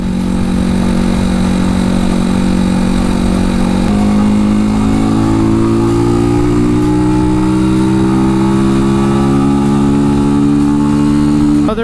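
Janus Phoenix 250 motorcycle under way, its single engine droning loud and close throughout, steady at first, then pitch climbing smoothly as the bike accelerates, with wind rush over the top.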